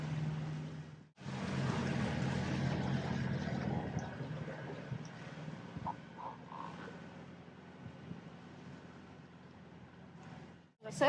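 A sailboat's engine drones steadily as it motors with sails down between tankers near Huelva on the Costa de la Luz, a continuous low hum with wind and water noise and no speech.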